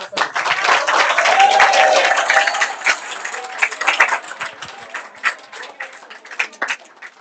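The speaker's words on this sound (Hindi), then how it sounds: "अपने लिए तालियां बजाएं।" Students at a Teachers Day celebration at Siwal Classes break into dense, loud applause, many hands clapping at once, swelling early and then thinning into scattered, uneven claps.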